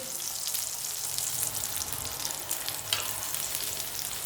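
Besan paratha sizzles steadily in oil on a flat pan, a constant close crackling hiss with faint scraping near the end and no voices.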